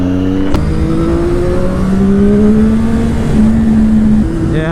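Ducati 1299 sportbike engine revs hard and close, a loud rising whine climbing through the gears with brief dips between shifts, heard alone.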